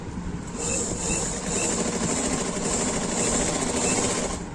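A sewing machine stitching folded fabric with elastic, a fast continuous mechanical whir with rapid needle rattling, close and steady throughout with no talking.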